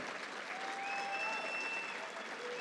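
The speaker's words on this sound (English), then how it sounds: "Go ahead, we can clap for that." An audience claps steadily at a political economy speech, a dense, even wash of applause lasting throughout with a few faint whistles and no talk over it.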